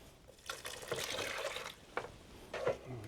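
Hot water is poured into a dry shepherd's pie mix with cheddar cheese powder, giving a soft, uneven splashing and trickling in a few short bursts, faint and close.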